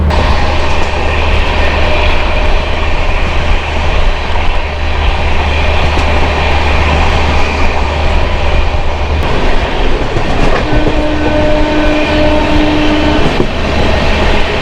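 Ranchi–Howrah Intercity superfast express running on Indian rails, heard from on board as a loud, constant rumble and rattle of carriages with clattering and a brief tonal whine late on.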